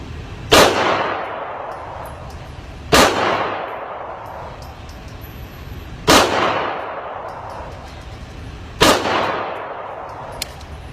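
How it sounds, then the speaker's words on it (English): Four sharp, loud pistol shots fired at a 7-yard target ring out alone, spaced about three seconds apart, each cracking and decaying into a short echo. "I'm going to take 3 shots at my 7-yard target on a 2-inch dot"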